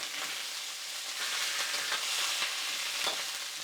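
Pepper steak stir-frying in hot oil in a pan for a Chinese dish, giving a steady, close, loud sizzle with scraping stirring strokes throughout and no voices.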